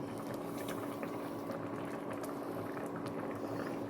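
Pear jam cooking in a pot of water with sugar on the stove: a thick, steady bubbling and popping of boiling liquid, close and continuous with small irregular bursts, no talking.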